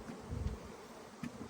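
Honeybees buzz steadily around an open beehive during a frame inspection, a close, droning hum that swells and fades as individual bees pass near.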